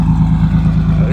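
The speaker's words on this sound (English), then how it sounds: "I'm gonna give it a little rev, and then we're gonna head out." A car engine with a big turbo runs loud and close, a deep rumbling drone through a brief moment of revving, with a voice faintly mixed in.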